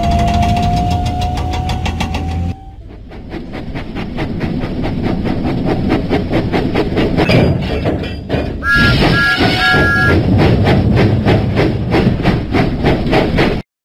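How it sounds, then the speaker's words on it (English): Thomas the Tank Engine puffs out of the docks in a video game, giving a steady train of rhythmic chuffs and clanks that quicken, with a whistle tone at the start and a two-note beep in the middle. "Thomas pumped his pistons and puffed out of the docks."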